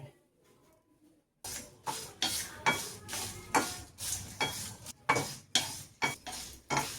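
Ground masala for Dindigul mutton sukka biryani is dry-roasted in a pan. After a quiet opening second, a run of rhythmic scraping stirs follows, each a short rasping sweep with a faint sizzle, close and without voices.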